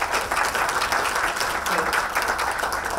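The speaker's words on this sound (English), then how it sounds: "I think a round of applause to our panelists." Audience applause for the panelists at a soil health business panel during UNEA 6, steady broadband clapping throughout at moderate level, with faint voices mixed underneath.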